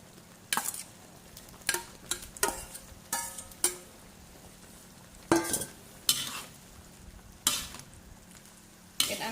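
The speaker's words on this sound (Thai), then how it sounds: "คนแล้วเนาะใส่ผักลงไปเลยค่ะ" Spatula stirring vegetables in a hot pan for Thai rad na with tender pork, a run of sharp scraping clanks and clicks over a soft ongoing sizzle, close and alone with no talk.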